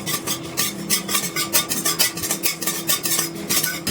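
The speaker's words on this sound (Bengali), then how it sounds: "এবারে গ্যাসের ফ্লেমটা একদম লোতে রেখে শুকনো কড়াইয়ে আমি গোটা মশলাগুলো ভেজে নিচ্ছি" Whole coriander, cumin and five-spice seeds are dry-roasted in a wok over a low flame while a utensil stirs them, making steady, rhythmic scraping and rattling strokes close by with no talking.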